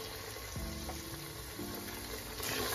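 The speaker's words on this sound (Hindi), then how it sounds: "सब्जियों को हम 1 से 2 मिनट के लिए भूनेंगे" Mixed vegetables sautéing in a pan with ginger garlic paste for pulao, a soft, steady sizzle with a brief stir or clink early on, quiet and close.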